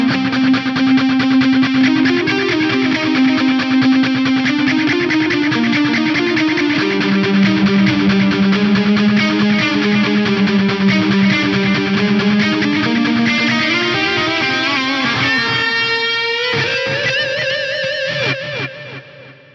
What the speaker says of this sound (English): Let's go for a shorter, almost rhythmic delay in here.